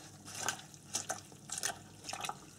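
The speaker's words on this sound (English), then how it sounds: "So I'm just pressing this all in so it's all in the water." Woad leaves pressed down into water in a pan, giving several short wet sloshes and splashes in uneven bursts, close and fairly quiet, with no talking.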